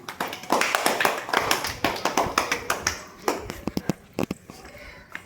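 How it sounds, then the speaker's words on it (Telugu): Second-grade children in a Telugu classroom clap together on cue, a fast run of sharp, irregular hand claps that thins into scattered slaps toward the end. "Very good, claps."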